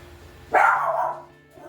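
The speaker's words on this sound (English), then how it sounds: "My dog Tana saying hello." A single loud bark from a dog in a home kitchen, close by and sharp, followed by quiet.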